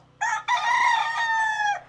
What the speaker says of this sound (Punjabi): ਇਹ ਸਾਰੇ ਲੜਾਕੂ ਮੁਰਗੇ ਨੇ